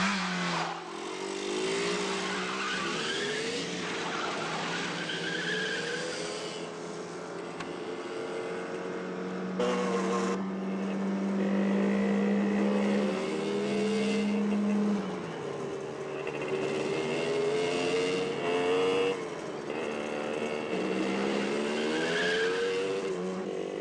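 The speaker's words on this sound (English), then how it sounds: "Look, the motorbike!" A loud motorbike engine revs and whines continuously, pitch rising and falling with acceleration, mixed with tire squeals and racing noise.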